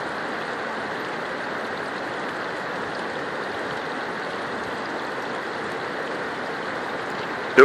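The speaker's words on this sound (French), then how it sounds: "Le fleuve se déchaîne sur les roches violemment" River water crashes violently over rocks where the Djoué meets the river at Brazzaville, a loud unbroken roaring rush that holds steady throughout.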